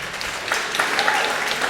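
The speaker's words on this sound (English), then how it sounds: "we give Ibrahim a round of applause" A short stretch of audience applause at a 2016 UCLan student union election results announcement, steady mid-level clapping from a crowd in a hall.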